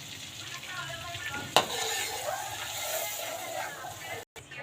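Shredded chicken for chicken pastil is stirred in a hot pan, sizzling steadily with soft scraping and one sharp utensil knock, close by and moderately loud, while voices talk faintly in the background.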